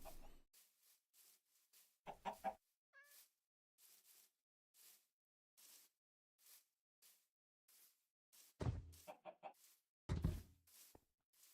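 Chickens in Minecraft cluck in short, regular bursts, mostly soft and steady, with a few louder flurries toward the end.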